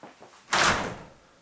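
A door fitted with a self-closing hinge swings shut with a single sharp thud that fades quickly, heard alone and fairly close.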